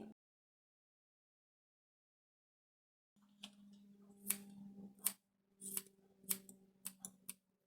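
Scissors snip through hair during an asymmetric bob haircut, a series of crisp, close cuts in an irregular rhythm after a stretch of near silence.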